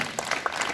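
Students clapping their hands together at a school morning assembly: a brief burst of several loose, uneven claps from a group, moderately close, with no talk.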